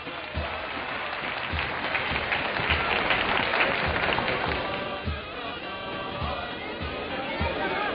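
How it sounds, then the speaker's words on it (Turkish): A crowd at a traditional Turkish archery and javelin competition in Biga claps and cheers in a sustained wash of applause, with dull thumps and background chatter running beneath it. "Çok güzel, alkış!"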